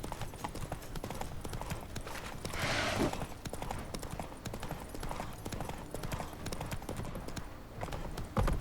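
Horse galloping at speed under a rider in The Witcher 3: Wild Hunt, a steady close clip-clop of hooves lasting the whole stretch, with a brief rushing swell midway and faint voices in the background.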